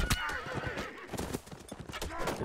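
A horse neighs in a strategy video game match amid the clatter of hooves and battle noise, a loud whinny over busy clopping and clashing sounds.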